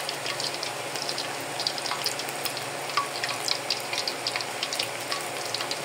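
Eggplant frying in hot oil gives a steady, close sizzle with fine crackling and occasional sharp pops, continuous and even throughout with no voices.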